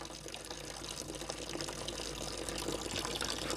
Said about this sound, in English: The dirty water will come here, and clean water will take in from this.